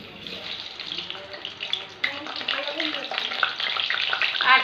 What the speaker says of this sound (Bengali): এবার আলুগুলো দিয়ে দেবো আমি।